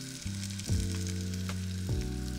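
Toasted cumin seeds sizzle in a pan, a steady crackling hiss that runs throughout beneath louder, sustained background music.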